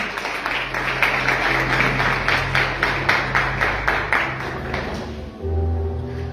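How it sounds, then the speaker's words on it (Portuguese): A church congregation claps during a Holy Communion service, a loud, rhythmic wave of hand-clapping in a fairly regular pulse that fades out near the end as other sound takes over. "Dê uma linda salva de palmas,"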